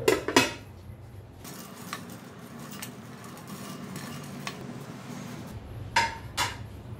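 Fried corn is scooped from a pan into a bowl, with sharp metal-on-metal clinks and scrapes at the start and end around a low, soft sizzle in between.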